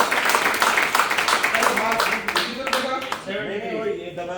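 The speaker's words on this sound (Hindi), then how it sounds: "थोड़ी सी इनके लिए एक बार ताली बजा सकते हैं आप" An audience at a business demo session claps briefly and fairly close, a short patter of hands that quickly gives way to someone talking.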